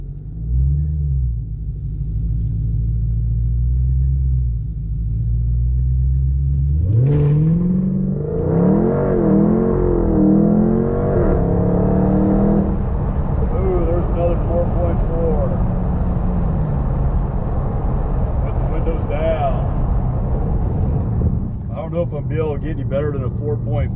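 A car launching through a 0-60 mph run on Continental ExtremeContact Sport 305/35/20 tires on 20x10.5 wheels: a low idle rumble, then a loud engine climbing through revs and gear changes, close and steady.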